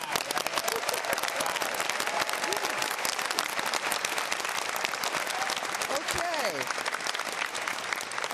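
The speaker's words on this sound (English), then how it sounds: "let's get a round of applause for Pomona College and where we are in this beautiful venue" An audience at a California governor's race debate at Pomona College applauds loudly and steadily, dense clapping filling the venue throughout, with a few voices rising over it.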